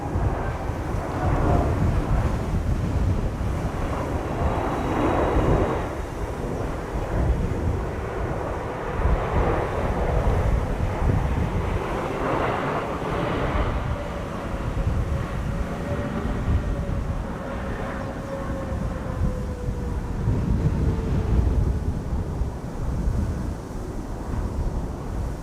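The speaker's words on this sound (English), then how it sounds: "If only the wind would slow down a little bit so that it isn't so jittery." Wind buffets an outdoor microphone at Schiphol Airport, a loud continuous rumbling roar that swells and ebbs, with a faint aircraft engine drone running underneath.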